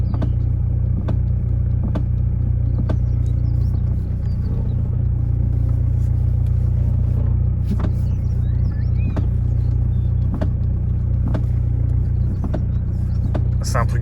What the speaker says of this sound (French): Alors ça c'est la ligne qui tape